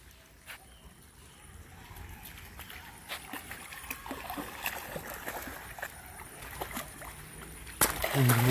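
A tired dog splashes lethargically in shallow water after a hot hike, making scattered soft sloshes and splatters that grow a bit louder toward the end, with a few sharper splashes near the close.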